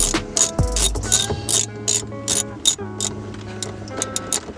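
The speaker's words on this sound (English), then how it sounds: "Then grab your 10mm socket and extension. Go ahead and start tightening." A ratchet with a 10mm socket and extension tightens a bolt on a BMW F-series steering wheel install, giving rapid close metallic clicking in short bursts separated by brief pauses.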